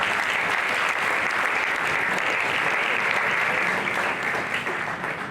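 An audience at a young adults' retreat keynote applauds to welcome a speaker onto the stage, with broad, sustained clapping that stays full throughout and thins slightly near the end.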